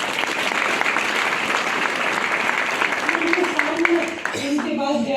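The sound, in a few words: audience applause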